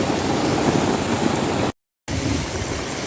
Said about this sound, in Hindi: मगर अब भी बारिश हो रहा है देखो